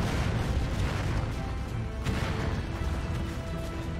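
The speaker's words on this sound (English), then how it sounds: "Ground this out with some artillery." Artillery fire in the Final Assault VR game: heavy booming blasts within a dense rumbling battle din, one sharper impact standing out near the middle, with no talk over it.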